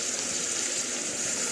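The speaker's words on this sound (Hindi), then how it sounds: "इसमें अब हम पानी ऐड करेंगे" Water poured into a cooking pot of chicken and pumpkin, a steady rushing gush with no pauses, fairly loud and close.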